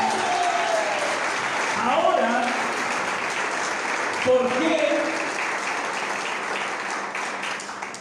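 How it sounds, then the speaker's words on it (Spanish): Church congregation applauding during a sermon, a sustained, moderately loud wash of clapping, with a voice speaking over it at moments. "Denle un aplauso fuerte al Señor."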